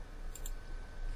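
A couple of quick, light clicks from a computer keyboard being typed on at a terminal, brief and fairly faint against a quiet background hum.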